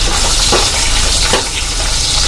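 Bombil, or Bombay duck fish, fries in a pan with loud, continuous close sizzling and a few stirring scrapes.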